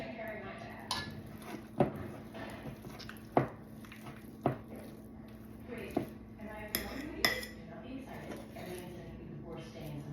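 Food is stirred in a bowl with a utensil, giving soft squishing and several sharp clinks of metal against the bowl at irregular intervals, close by, under occasional talk.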